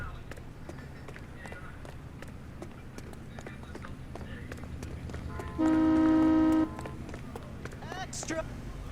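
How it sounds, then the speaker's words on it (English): In the L.A. Noire video game, a car horn gives one sustained honk lasting about a second, set against street noise, horse hooves and people talking. "Honk at me one more time."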